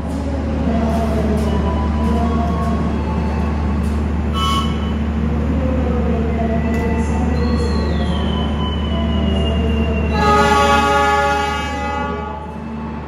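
A Progo passenger train departing a station rumbles steadily with low engine drone, a long horn blast sounding partway through and a high wheel squeal rising near the end.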